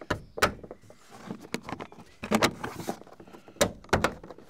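A van door trim panel is whacked and pressed back onto its clips, giving a series of sharp plastic thunks and knocks in irregular bursts, close and fairly loud, with no talking.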